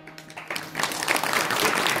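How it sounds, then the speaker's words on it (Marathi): Audience applause for two young kirtan singers at a Varkari devotional gathering in Alandi, a broad wash of clapping that swells after a quiet start and holds steady to the end. "यांच्यासाठी टाळ्या वाजवायला लावल्या."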